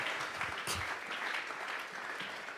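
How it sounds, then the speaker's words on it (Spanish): Congregation clapping during a church service, a steady dense wash of applause that sounds somewhat distant and quiet throughout. "Vamos a regalarle ofrenda de palmas al Dios de la gloria"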